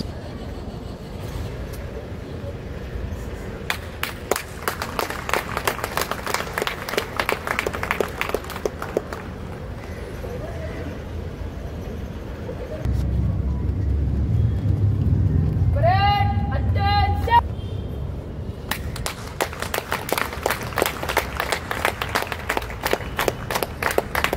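An audience applauds at a Student Police Cadet passing out parade at a higher secondary school, with several bursts of dense clapping separated by stretches of crowd murmur and some low rumble.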